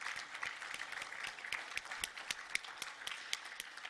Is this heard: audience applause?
yes